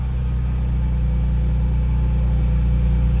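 A Toyota Tacoma engine runs just after start-up with a steady, loud, low idle drone that stays even throughout, with no talk over it.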